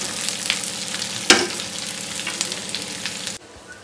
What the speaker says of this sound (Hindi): एक साइड में कैफे में सब्जी छौंक दिए हैं